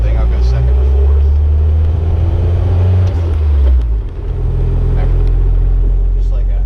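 A 1978 Fiat 124 Spider driving through its gears, the engine a loud, close, steady drone with a brief dip in power around a gear change before it pulls again.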